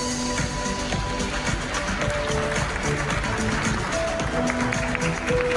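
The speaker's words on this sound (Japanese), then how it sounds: "拍手の代わりに皆さんもシャッターの音がこちらステージまでしっかりと届いております。" Camera shutters clicking from the audience at the Tokyo Auto Salon 2023 race queen costume awards stage, a rapid, scattered patter of clicks under tonal background sound and occasional voices.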